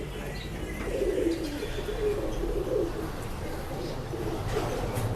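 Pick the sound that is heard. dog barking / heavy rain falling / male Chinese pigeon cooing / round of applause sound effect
male Chinese pigeon cooing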